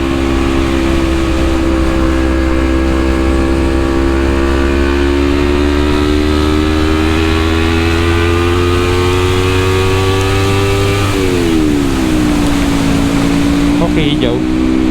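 Motorcycle engine running while riding through Jakarta traffic on a bike that often sticks in neutral, a loud close steady hum whose pitch rises slowly, then drops and shifts near the end as the ride changes.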